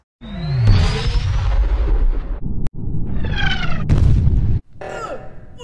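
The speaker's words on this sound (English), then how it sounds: "Firing cannons." Booming cannon blasts fired in a real-life Among Us game aimed at the Skeld, with several loud explosive bursts and whooshing sweeps in quick succession separated by brief gaps.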